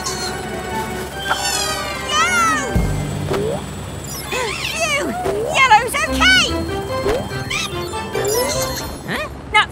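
A cartoon cat meows in a children's animated show about a robot and a garage, the sliding meows mixed with busy character voices and music.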